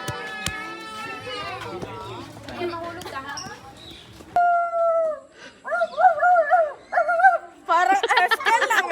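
A stray dog howls and whimpers in long, wavering, drawn-out cries with short pauses between, fairly close and loud, while people talk over and around it.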